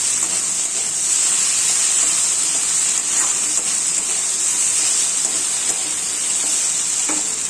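Bitter gourd and maya fish are stirred and fried together in a pan, giving a loud, continuous close sizzle with occasional soft scrapes of stirring.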